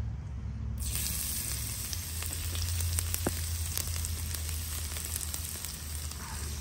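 Garlic hits hot oil in a pan for salt and pepper shrimp, bursting into a loud, steady sizzle that fills the whole stretch with crackling spatter.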